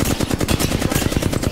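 Rapid automatic gunfire in the video game Apex Legends, a loud, close, continuous burst of evenly spaced shots running the full length with no talk.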